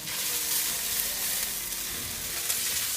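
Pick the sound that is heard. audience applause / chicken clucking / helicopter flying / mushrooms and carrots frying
mushrooms and carrots frying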